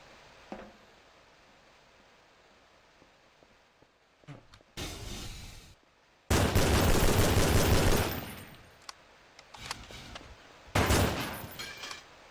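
AK rifle fire in the Half-Life 2 beta video game, heard as three loud, rapid automatic bursts, each lasting about one to two seconds, separated by quieter gaps with faint rustling and clicks.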